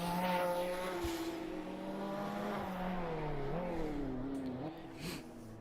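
A 1984 McLaren Formula 1 race car in a sim-racing game at Hockenheim, its high-pitched engine wailing steadily with rising and falling revs through gear changes, loud and alone.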